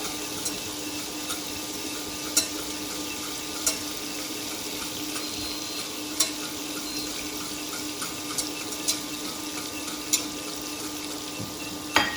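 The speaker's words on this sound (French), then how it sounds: "On va fondre 250 g de beurre." About 250 g of butter melts in a saucepan, giving a steady close hiss and bubbling sizzle with occasional faint clicks and ticks. No talking.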